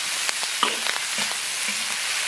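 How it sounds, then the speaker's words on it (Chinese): Chicken feet tossed into a hot wok of chili oil with scallion, ginger, garlic, dried chilies and Sichuan peppercorns, giving a steady close sizzle and fry with a few soft stirring knocks, no voices. "料头炒香以后，倒入鸡爪子"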